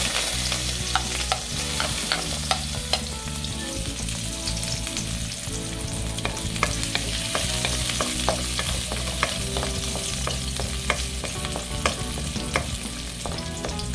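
Garlic fries in a pan with a spoonful of vegetable oil while being stirred: a dense, steady sizzle with frequent scraping clicks of the utensil, loud and close throughout.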